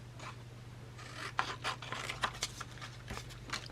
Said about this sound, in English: I'm going to make a little pocket here and trim this down literally from corner